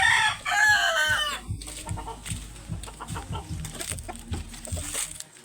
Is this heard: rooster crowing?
yes